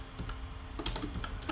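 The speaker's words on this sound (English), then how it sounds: "Man, I'm still getting used to my keyboard." Fingers tap out a quick, uneven run of keystrokes on a computer keyboard close to the microphone while writing Go code, with no talking.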